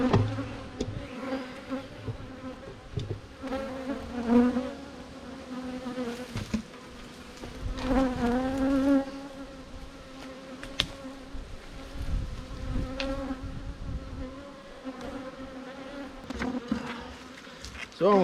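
Honeybees around an open beehive drone in a dense, close, continuous buzz whose pitch rises and falls as individual bees pass by, with occasional small knocks from the hive.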